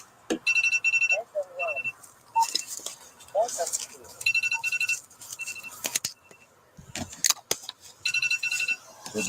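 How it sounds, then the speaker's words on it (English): An electronic phone ringtone sounds in repeated bursts, a bright trilling pattern that starts and stops several times at a steady rhythm, loud and close, with scattered clatter between rings. "answer the phone already, man."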